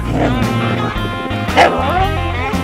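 Dogs being fed in Lima, Peru, barking and yipping almost continuously up close, with a brief louder yelp near the middle and some whimpering mixed in over a steady background.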